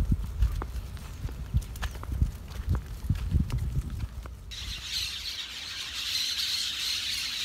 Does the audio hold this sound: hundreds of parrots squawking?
yes